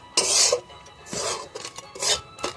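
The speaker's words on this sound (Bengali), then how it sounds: "ভালোভাবে লাল লাল করে ভেজে নেবো" Flour being fried in a pan until reddish, stirred with a utensil that scrapes and rasps against the metal in several bursts of rough, close scratching with short pauses between strokes.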